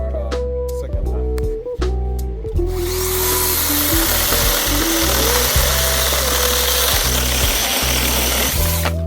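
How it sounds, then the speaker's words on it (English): A mini chainsaw cuts through a dry firewood log, a loud, steady buzzing drone with the motor's pitch shifting and bogging as the chain bites, starting with a few short revs before a continuous cut. "We're gonna cut a piece of log to see how good this thing works."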